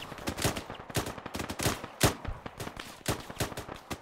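Rapid bursts of automatic rifle fire in the Arma 3 military game, a fight against Iranian forces, with sharp repeated shots cracking at irregular intervals, loud and close, with no talking.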